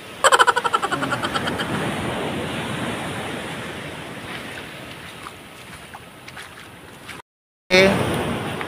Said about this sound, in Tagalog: medyo malakas ang alon niya